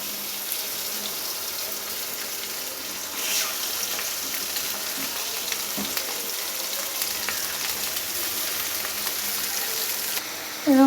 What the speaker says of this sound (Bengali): মাছগুলো ছেড়ে দেবো। মাছগুলো একটু হালকা করে ভেজে নেব।